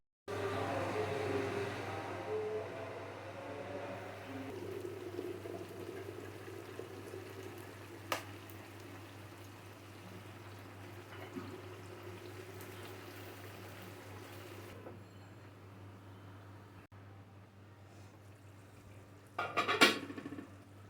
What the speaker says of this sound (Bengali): মাংসটাকে ভালো করে কষাবো চুলাটা কমিয়ে